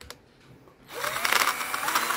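A portable cordless drill whirs up and keeps driving a screw, its motor loud and close as it spins for over a second after a brief quiet start.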